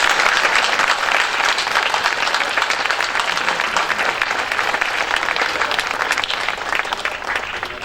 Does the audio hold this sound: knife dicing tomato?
no